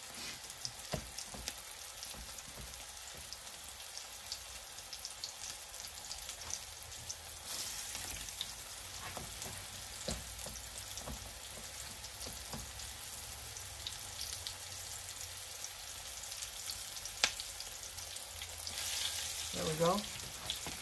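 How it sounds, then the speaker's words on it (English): Patties made from canned salmon fry in a pan, a steady close sizzle that crackles and spits throughout, with an occasional faint voice in the background. "Let's let those fry up a little bit."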